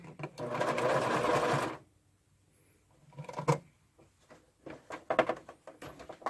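A sewing machine stitches in short runs, one steady burst followed by a pause and then several shorter stuttering bursts, close up and moderately loud with no talk.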